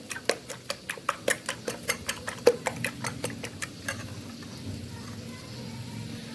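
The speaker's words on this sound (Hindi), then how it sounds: "मैंने 2 एग ले लिए हैं, अंडे ले लिए हैं, इनको अच्छे से फेंट लेंगे बहुत ही अच्छे से।" Two eggs being beaten in a bowl, a string of sharp, regular clicks of the whisk against the rim that fades into quieter background after a few seconds.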